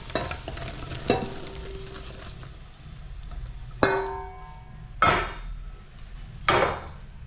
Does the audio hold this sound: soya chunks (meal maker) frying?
yes